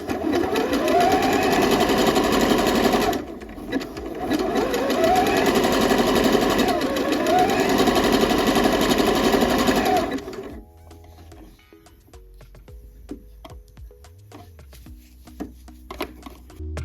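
A sewing machine stitches a sleeve band onto a top in rapid continuous bursts broken by a short pause, then stops, leaving quiet handling clicks and faint rustling.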